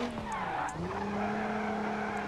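A car drifts sideways with a long, loud tire squeal that wavers in pitch and carries steadily on over the engine roar.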